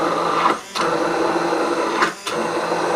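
Blender pulsing to whip up fresh homemade mayonnaise, a steady loud motor whir cut by two short pauses between bursts, with no talking.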